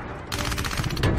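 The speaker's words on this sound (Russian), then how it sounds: "Пулемет!" Rapid bursts of machine gun fire from an action movie scene break out suddenly after a short quiet moment, loud and sustained.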